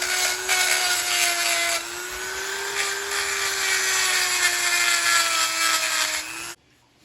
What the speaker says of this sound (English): we're going to take a grinder or the Dremel to this and just kind of match the rest of the sealing surface here